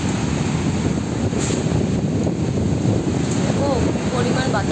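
Strong gusty wind from a Kalbaishakhi storm in Bagerhat roars steadily and loudly close to the microphone, a dense continuous rush with rain blowing in and no pause throughout.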